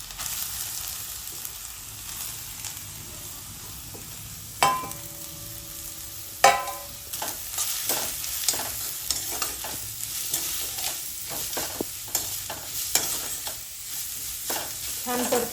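Carrots sautéing in hot ghee for carrot kheer, a steady close sizzle broken by scraping stirs and clinks of a spoon against the pan, with two sharper knocks early on and no talking.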